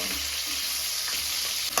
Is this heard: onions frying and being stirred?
yes